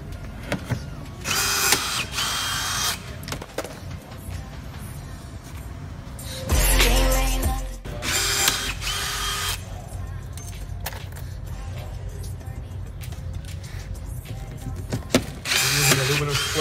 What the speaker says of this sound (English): Panel we're drilling is the composite panel of the car.